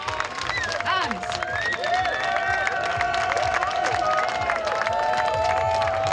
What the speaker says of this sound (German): Nochmal einen Applaus für ihn.